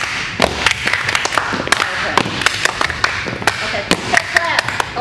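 Cheer team clapping in rhythm, a series of sharp hand claps in quick groups spread through the clip, with some background chatter.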